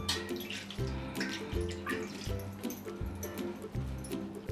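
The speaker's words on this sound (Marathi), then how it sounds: "आता थोडं थोडं पाणी घेऊन आपल्याला हे पीठ मऊसर मळायचं आहे." Hot steamed flour dough is kneaded by hand with a little water, making regular wet squelching and slapping strokes. They repeat in a steady rhythm, close and fairly quiet.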